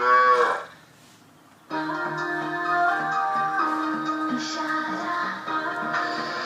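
A cow moos once in a TV advert for Pran milk candy, then a bright jingle of music plays steadily, with no talking.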